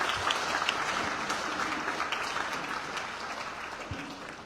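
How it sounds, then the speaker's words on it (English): An audience at an official program launch ceremony applauds in a sustained, moderately distant round of clapping with occasional louder claps. "let's give another round of applause"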